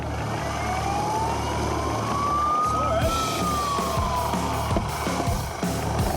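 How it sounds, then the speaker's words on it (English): A Westpac rescue helicopter's rising and falling wailing warning siren sweeps up then down over a loud, steady rotor and engine rumble at Bondi Beach. "The Westpac rescue chopper sounds a warning siren."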